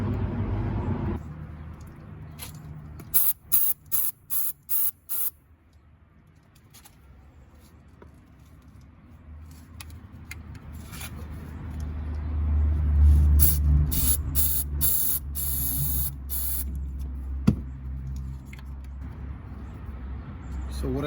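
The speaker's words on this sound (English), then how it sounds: "So what I sprayed right there, it's a CRC freeze off." Short bursts of CRC Freeze-Off penetrant spray onto wheel hub bolts of a Ford Explorer, a quick series of hissy spurts, followed by a low, swelling background rumble as someone talks.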